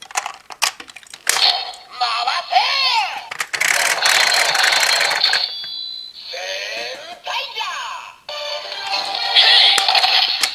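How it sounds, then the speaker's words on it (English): A Zenkaiger TwoKaizer Sentai gear plays its electronic toy sound effects: clicks, then loud synthesized jingles and a chirpy announcement voice. Short pauses and clicks separate the bursts. "pretty much all of the past Sentai gears make generic sounds, or like that generic sound, here is the TwoKaizer gear"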